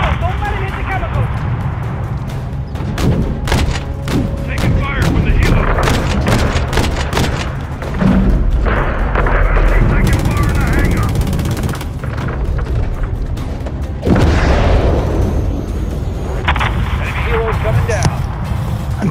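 Dense gunfire, booms and explosions from a Call of Duty MW3 battle on PS5, loud and continuous throughout, with a brief near-silent break partway and voices talking over the combat.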